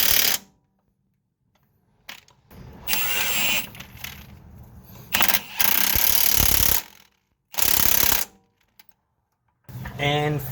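Power-tool bursts tighten the strut alignment bolt on a Subaru's Ironman 4X4 suspension: several loud, clattering runs of a few seconds each, separated by silent gaps.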